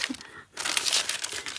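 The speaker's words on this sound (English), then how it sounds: "Sorry, crinkly paper again." Crinkly paper rustles and crackles close by while being handled for small paper house tags, a brief burst of crisp crinkling after a short pause.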